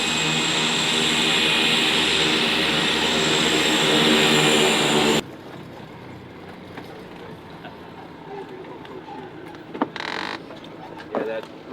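Small airplane landing on a jungle runway in Costa Rica: loud steady engine drone that cuts sharply to a quieter rumble of rollout and taxi, with a few bumps and knocks near the end.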